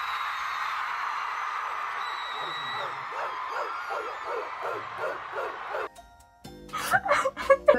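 A concert crowd at a show in London imitates dogs barking, a dense run of many overlapping voiced barks and yips in a rhythmic pulse, loud and close, before a brief lull and then louder cheering and shouts.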